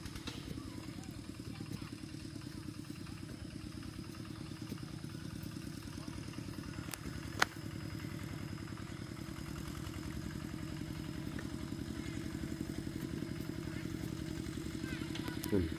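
A farm tractor engine runs steadily with a rhythmic chugging idle and metallic clatter, close by in a dry rice field during planting, with a sharp click partway through.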